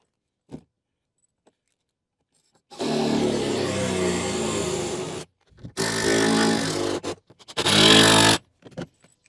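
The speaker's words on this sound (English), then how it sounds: "Now I'm using shorter lag screws." A power driver runs lag screws into a tiny house deck in three loud, sustained bursts of whirring and grinding, separated by short pauses, with faint clicks between them.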